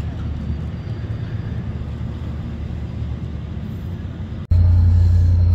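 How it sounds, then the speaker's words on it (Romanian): A ferry boat engine starting up in the harbour, a steady loud rumble of idling machinery that jumps sharply to a heavier, deeper drone partway through. "ni pornește alt feribot"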